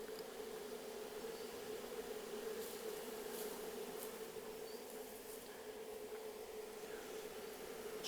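A swarm of bees being boxed on a bee farm gives off a steady, continuous buzzing hum that holds at a constant level throughout, close by and with no voices.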